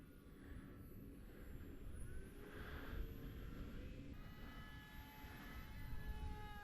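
An OMP Hobby T720 RC plane passes overhead, its steady engine drone faint and distant over broad wind-like noise, swelling slightly as it moves across.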